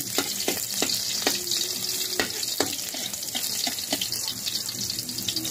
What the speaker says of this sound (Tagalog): Ngayon mainit na yung mantika, igisa na po natin tong ating bawang.